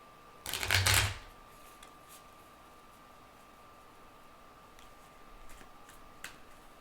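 Oracle cards riffle in one short, loud shuffle near the start, followed by a quiet background with a faint steady hum and a few soft ticks.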